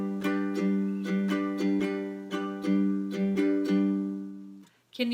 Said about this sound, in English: This is basically just a variation on the island strum